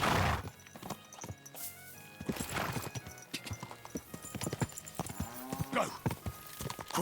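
Rhythmic hoof clip-clops from a horse in Kingdom Come: Deliverance 2, steady and mid-distance, mixed with game music and effects while a person talks over it.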